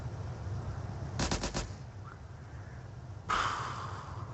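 A heavy vehicle-mounted gun in the video game ARMA 3 fires a short rapid burst of four shots, then after a pause comes one louder blast that trails off.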